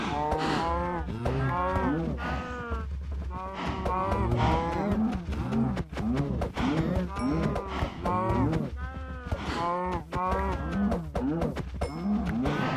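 Cows mooing in Minecraft, several long, loud lowing calls that overlap almost continuously, with no talking.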